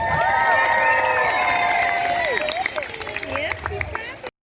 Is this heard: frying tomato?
no